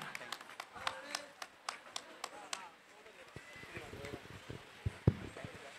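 An audience in a hall claps for dance masters being honoured at a dance school's silver jubilee celebration. The sharp, scattered claps start brisk and then thin out into sparse taps, with talk continuing underneath.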